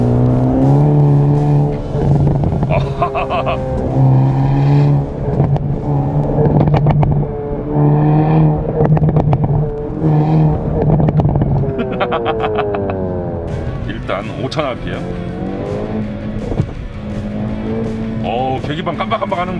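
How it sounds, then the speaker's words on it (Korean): A Hyundai Kona N with a wet eight-speed DCT revs hard in first gear up to about 6800 rpm. The engine drones loud and close under continuous talking inside the car. "빨리 변속하라고 지금 1단에서 6800rpm 찍고 있는데 변속 안 하죠"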